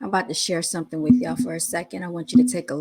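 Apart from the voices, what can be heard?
No everyday noise stands out behind the speech.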